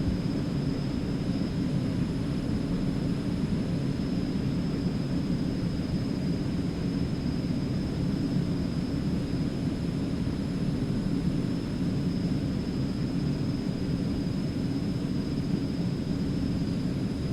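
A simulated small airplane climbs out after takeoff in the flight simulator X-Plane 11, a steady, loud engine and wind drone with a faint high whine, unbroken and with no talking.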